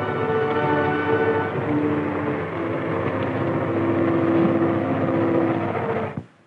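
An M60 tank engine runs steadily during a slope test on a 36% incline, a loud droning rumble with layered tonal hum that holds even and then cuts off abruptly near the end.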